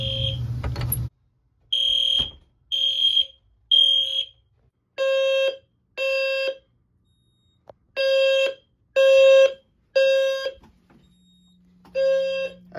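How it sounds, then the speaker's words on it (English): A loud fire alarm horn blares in repeated pulses, roughly once a second, with short gaps between blasts and a brief quieter hum near the end. "And the alarm outside is going off."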